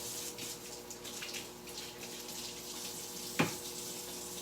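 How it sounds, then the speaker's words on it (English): Water runs steadily from a kitchen tap during handwashing, a continuous close rushing hiss with one brief clunk near the end. "All right, I gotta wash my hands."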